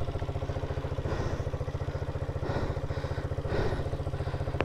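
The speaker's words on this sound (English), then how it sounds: "This is a friend's learning bike, just keeping it running for them." A learner motorcycle idles close by, its engine putting out a steady, fast, even chug with a faint mechanical clatter, running alone with no voices.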